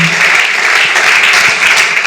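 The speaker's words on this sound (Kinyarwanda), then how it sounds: "amashyi, We clap for you." A church congregation claps steadily for God during worship, a dense, continuous wash of applause that stays loud and even from start to finish.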